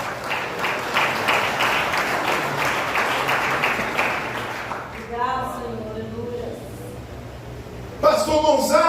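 A church congregation at a Brazilian service claps steadily for about five seconds; the applause then fades under a speaking voice, and a louder voice cuts in near the end.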